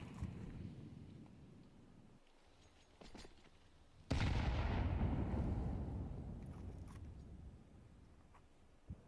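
Grenade blasts in Counter-Strike: muffled thuds and gunfire at first, then a loud explosion that booms and rumbles away over several seconds.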